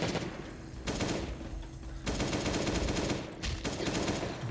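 Gunfire from the mobile survival game Last Day on Earth: Survival, an AK and a second gun in an arena event, comes as dense rapid bursts with brief pauses between them and no talk over it.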